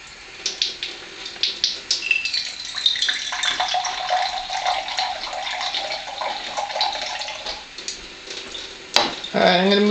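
Water pours steadily from an Enagic water ionizer at its first level, a continuous splashing stream that runs for most of the stretch, ending in a brief sharper gurgle as the container fills.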